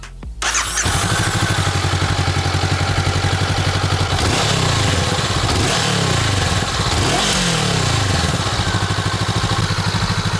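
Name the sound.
Honda CBR500R twin-cylinder motorcycle engine sound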